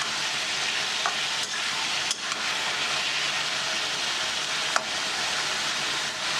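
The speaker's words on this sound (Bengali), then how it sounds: "এখন নেড়ে নেড়ে আলুটাকে একটু ভেজে নেব" Potatoes and onions coated in ginger-garlic paste fry steadily in a pan, giving a continuous dense sizzle with a few faint scrape and stir clicks, close and alone.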